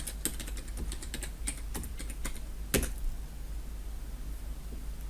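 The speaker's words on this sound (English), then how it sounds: "I'll type in my password." A run of quick keystrokes on a computer keyboard while entering a password, close and fairly crisp, clattering for about three seconds and then stopping, leaving only faint room hum.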